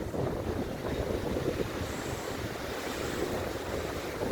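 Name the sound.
strong storm wind and sea waves in Antalya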